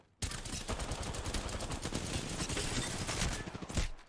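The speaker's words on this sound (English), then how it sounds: "The enemies are shooting at me. Firing." Rapid automatic gunfire from a firefight in the video game Apex Legends rattles on in a dense, continuous burst for about three and a half seconds, then cuts off abruptly.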